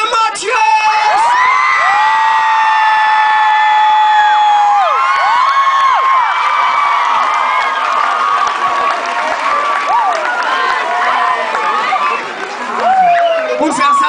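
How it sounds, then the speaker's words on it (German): A concert crowd at a live band show claps, cheers and whoops loudly for the bass player, a dense sustained roar of applause with high shouts and whistles throughout. "Applaus für Matthias!"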